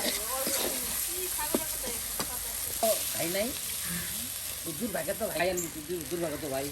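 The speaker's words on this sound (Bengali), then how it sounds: "একদম দেখুন কত সুন্দর করে কিন্তু মশলাটা ভেজে নেওয়া হচ্ছে" Spices frying in oil in a home kitchen, a steady sizzling hiss with occasional stirring clatter, close and moderately loud, while someone talks over it throughout.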